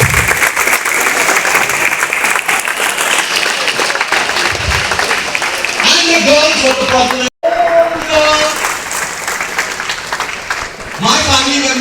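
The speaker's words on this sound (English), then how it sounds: "Once more, big clap for the girls." An audience at a school event applauds for the girls, steady loud clapping filling the whole stretch with a speaker talking over it.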